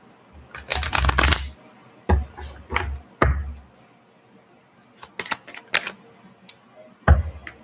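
Tarot cards being shuffled, close and fairly quiet, in several short bursts of riffling and slapping separated by brief pauses.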